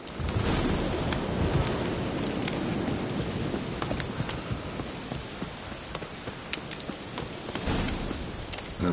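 A steady rainstorm in The Witcher 3, a dense, continuous hiss of rain with low thunder rumbling beneath it and occasional sharper drips or knocks, with no voices.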